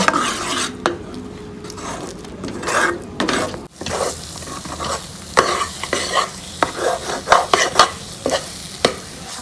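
Mawa (milk solids) is stirred in a pan until thick, with repeated scraping strokes of a utensil against the metal over a soft sizzle, getting quicker and more rhythmic toward the end.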